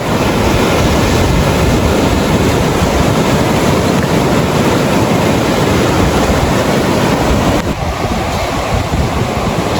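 Surf washing against the shore of a lagoon at a hidden paradise resort in Bani, Pangasinan, a steady broadband roar with wind buffeting the microphone, loud and continuous with a slight dip near the end.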